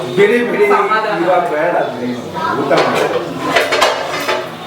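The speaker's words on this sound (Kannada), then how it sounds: "ನಮ್ಮ ಅತ್ತೆ ಪಾತ್ರೆ ತೊಳಿತಾರೆ" Dishes and pots clatter and clink as a mother-in-law washes them in a home kitchen, a steady run of metallic knocks under nearby talking.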